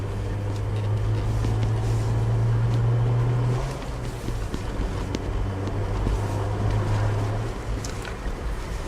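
A 1993 Toyota Mark II Tourer V with its stock clutch drives up through all five gears, its steady engine drone dropping in pitch at each smooth shift, with wind noise throughout.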